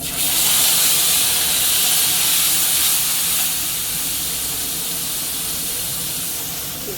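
Pointed gourd sizzling loudly in hot oil with ginger, green chilli and tomato paste just added, a steady close hissing fry that eases slightly over several seconds, with no talking.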